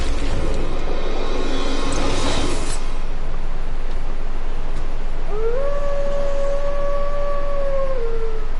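Great wolf Sif from the video game Dark Souls Remastered lets out a single drawn-out, tonal howl that rises and holds steady, preceded by rumbling ambient game noise and a brief burst of sound.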